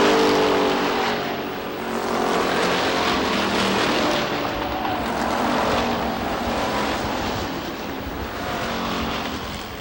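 Stock cars roaring around Lee USA Speedway on the final lap of a 1993 Oktoberfest race, a loud continuous engine drone that swells and fades as the pack passes, with no voices over it.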